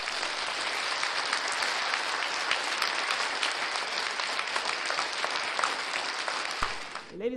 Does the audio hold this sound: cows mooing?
no